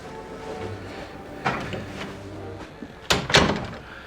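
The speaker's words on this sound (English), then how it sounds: "Shut the door." A door being shut in a TV drama scene: faint creak and handling sounds followed by a couple of heavy thuds near the end, fairly close, with no talking.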